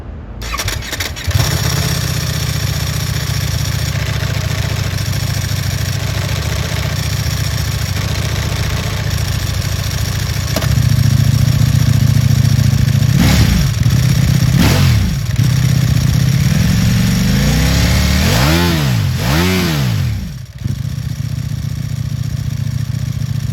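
Ducati V4 MotoGP limited-edition motorcycle, 260 units produced, starts up and idles with a loud steady engine note, then revs in several sharp rising-and-falling bursts near the microphone, with no one talking.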